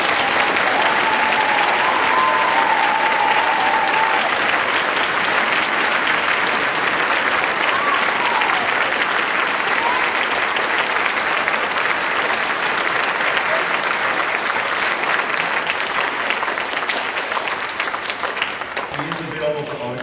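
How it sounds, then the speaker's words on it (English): Sustained applause from an orchestra concert audience fills the whole stretch, dense and steady, tapering slightly near the end as the clapping thins out. "please, a big round of applause"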